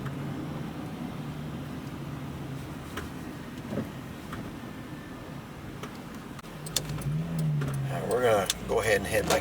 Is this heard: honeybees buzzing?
no